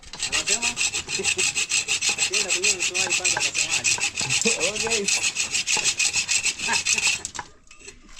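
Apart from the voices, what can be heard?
sawing with a handsaw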